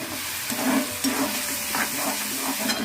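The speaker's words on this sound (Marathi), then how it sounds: "हे आपण जरा परतून घेऊया" Chopped onions sautéing in a kadhai for a Marathi-style methi bhaji, giving a steady close sizzle and hiss with light stirring scrapes and occasional soft clinks.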